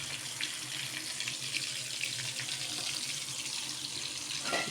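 Water running from a kitchen tap into a sink or container, a continuous hissing splash lasting several seconds, fairly close and even in loudness, ending with a brief clatter.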